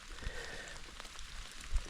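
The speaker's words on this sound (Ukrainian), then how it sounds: "Бо щось дощик такий, не на шутку." Rain falls outdoors during mushroom picking for butter mushrooms in Ukraine's Rivne region, a faint, steady patter with a couple of soft, heavier drops landing nearby.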